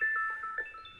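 Telephone tones sound during a paid psychic phone consultation: a short run of electronic beeps and tonal pulses, moderately faint, with no voices.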